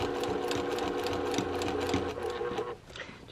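A sewing machine runs steadily, stitching back over a seam line on a fabric zipper pouch bag, with a fast even whir that stops near the end.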